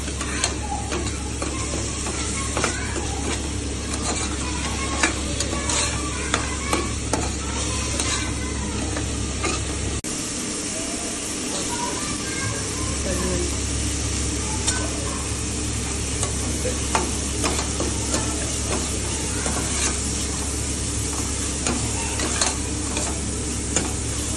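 Goat brain curry is stirred in a pan over steady sizzling frying, with a continuous hiss and frequent small clicks and scrapes of the spoon running throughout, close and even.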